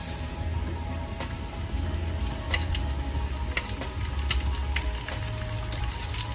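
Garlic and onion frying in a pan for Bicol Express, a steady close sizzle with scattered sharp crackles and pops, loud and continuous, with no talking over it.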